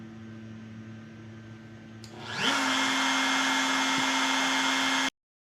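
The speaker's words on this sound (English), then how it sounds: "trying to flatten the wasteboard here" An Onefinity Woodworker X50 CNC router flattening its wasteboard, a quiet hum that suddenly rises into a loud, steady, whining spindle roar and holds, then cuts off abruptly.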